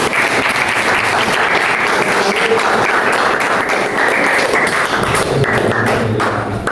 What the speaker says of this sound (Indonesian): Masya Allah, alhamdulillah, tepuk tangan.